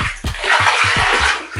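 Water dumped over a cat with thick fur during a bath, a series of splashing pours and gurgles in quick rhythm close to the microphone, with no voices.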